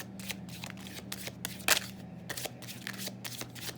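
Tarot cards are shuffled and drawn for a reading, producing repeated quick papery riffling bursts and soft flicks, close and fairly quiet, with no voices.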